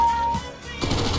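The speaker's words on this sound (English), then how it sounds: "he's firing multiple shots" Gunfire from the game CS:GO, a burst of close, loud shots arriving after a short lull, with the rapid rattle of successive rounds filling the end of the moment.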